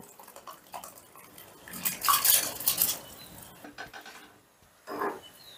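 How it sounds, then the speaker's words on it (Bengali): Soaked rice tipped into a cooking pot of oiled, stirred chicken mixture, a soft clattering rush with metal scraping against the pot, fairly quiet and close, followed by a few faint clinks. "মিশিয়ে নিয়েই দিয়ে দিচ্ছি ভিজিয়ে রাখা চাল।"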